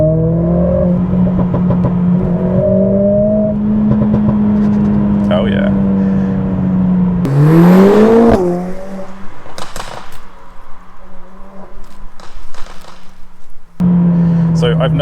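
A Mercedes-AMG CLA45 S with a modified exhaust drones loudly and throatily, then briefly revs up sharply before settling. Someone speaks a few words over it.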